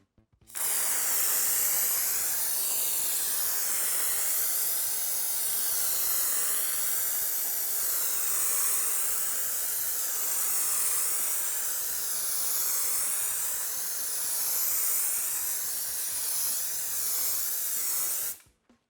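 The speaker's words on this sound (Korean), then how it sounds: "이게 일반 스프레이 폼보다는 조금 쉽게 얘기하면 꾸덕꾸덕 나가는 것 같은데 고르게 잘 펴져서 나가는 것 같아요" Insulation foam sprays from a spray foam gun in one long, loud, steady hiss that starts and stops sharply, with slight wavering surges throughout and no talk.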